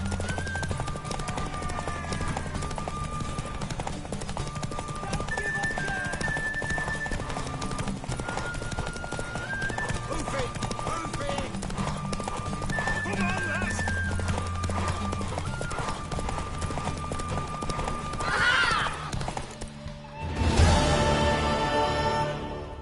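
Clip-clopping hooves and a horse whinnying in The Witcher 3: Wild Hunt, over a steady backdrop of game music and ambience, with a sharp burst of sound near the end.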